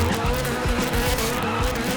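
Car doing donuts at a gymkhana event, tires squealing in a rough rasping whine over a revving engine, close and continuous for a brief burst.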